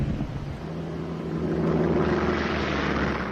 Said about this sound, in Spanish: bombarderos torpederos Devastator norteamericanos, volando a baja altura, atacaron a los buques japoneses